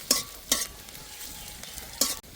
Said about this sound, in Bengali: দিয়ে দেব কুচি করা পেঁয়াজ, 5-6 কোয়া রসুন, আর দিয়ে দেব কুচি করা আদা। এবার ভালো করে ভেজে নেব।